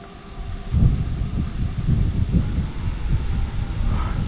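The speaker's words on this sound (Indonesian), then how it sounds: "Tiba-tiba angin kencang loh." Sudden strong wind gusting near a graveyard, a continuous low buffeting roar with rough microphone rumble that swells after the first second and holds steady.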